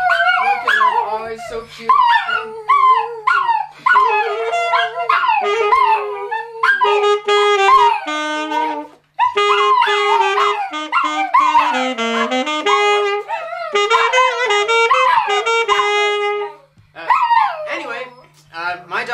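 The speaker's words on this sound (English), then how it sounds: "my dogs are barking" Dogs whimpering, yipping and howling in high, tonal, drawn-out cries, close and loud, near-continuous with short pauses, while a person speaks briefly over them.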